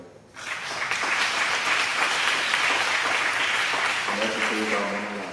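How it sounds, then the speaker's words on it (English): Church congregation clapping steadily, a broad even wash of applause that starts abruptly and holds for several seconds, with a faint voice surfacing near the end. "We'll give them a hand anyway."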